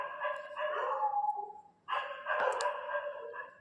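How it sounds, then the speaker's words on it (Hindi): Dogs bark at night in two sustained bursts, a short pause between them, loud and fairly close, with no one speaking. "कुत्ते भूकने की आवाज़ आ रही है क्योंकि ये वीडियो मैं रात को बना रही हूँ।"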